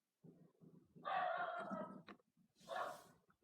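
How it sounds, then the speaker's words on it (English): A dog barks in agitated bursts, a long harsh stretch followed by a shorter outburst after a pause, somewhat distant and faint with low rumbling noise underneath. "And dog freaking out."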